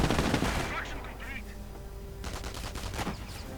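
Video game combat as a Stuart light tank attacks a machine-gun team: rapid, sharp bursts of automatic gunfire crackle loudly at the start, then sparser shots and rattles follow amid a dull battle din.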